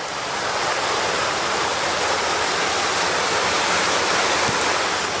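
Steady rushing water, a loud continuous broadband roar of a creek pouring over the remains of an old dam, with no voices or breaks.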